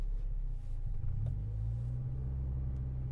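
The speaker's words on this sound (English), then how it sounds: "we've got VTEC kicking in at around 4300" A 1998 Honda Civic VTEC turbo with a 1.8 liter dual overhead cam engine drones steadily on the autobahn, a loud, low, continuous rumble whose pitch shifts partway through, with no talking.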